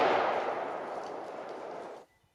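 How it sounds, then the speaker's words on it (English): A .50 AE Desert Eagle fires into a plastic UKArms replica pistol, a single loud blast whose broad roar decays steadily for about two seconds before cutting to near silence. "the second one of these pistols is up against a 50 AE Desert Eagle"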